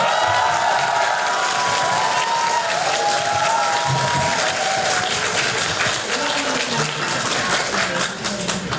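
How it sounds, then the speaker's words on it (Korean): An audience at a book talk by Han Dong-hoon applauds for members of the National Assembly, sustained loud clapping from a large crowd filling the whole stretch, with a few faint cheers mixed in. "국회의원분들께도 박수 한번 부탁드리겠습니다"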